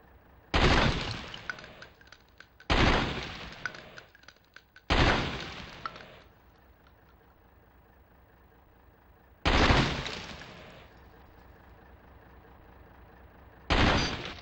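Pistol fire at short-range targets in the PlayStation 2 game Ghost Recon Jungle Storm: five loud, separate shots spread out over the clip, each one ringing off, with quiet between them.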